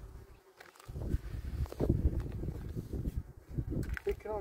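Bees or wasps buzz around a hut being built in a rural setting, a steady droning hum that rises and falls beneath people talking nearby, with a few knocks and rustles.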